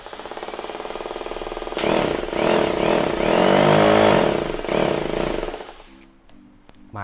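A Bosch drill in concrete hammer-drilling mode gives a loud, continuous rattling hammer roar that grows stronger midway, then winds down and stops near the end.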